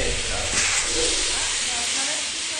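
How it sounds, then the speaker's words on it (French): Steam hisses steadily in the video game Lethal Company, a broad continuous rush of vapor that stays loud and even throughout without a break. "y a de la vapeur"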